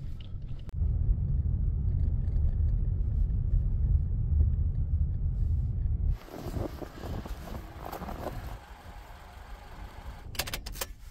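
A car driving in deep winter cold at minus 33 degrees, climbing higher through a snowy canyon: a steady low engine and road rumble from inside the cabin, then a shift to rougher, brighter road and tyre noise with a few sharp knocks near the end.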